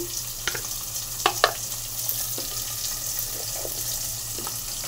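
Potato, capsicum and tomato fry in a pan with turmeric, a steady low sizzle broken by a few sharp clinks and stirring knocks, with no voices.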